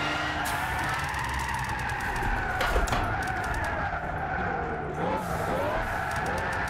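Racing car engine in Gran Turismo 6 drifting through a corner, a sustained high tire squeal over steady engine drone with shifting pitch, loud and continuous throughout.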